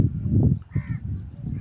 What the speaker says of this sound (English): aeroplane bird, black in color, sitting on the wire.